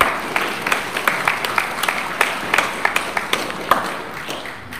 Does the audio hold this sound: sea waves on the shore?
no